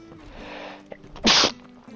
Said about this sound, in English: I keep sneezing, it's gross.